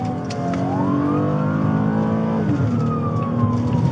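Police car engine accelerating hard, a loud close revving whine that climbs in pitch, drops briefly as it shifts, then climbs again over a steady engine rumble, with no talk over it.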